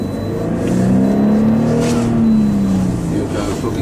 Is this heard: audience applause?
no